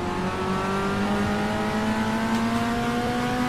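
A Formula 1 racing car engine in the Automobilista racing game whines loudly and steadily, its pitch rising gradually throughout, a continuous high-revving drone with no other sounds.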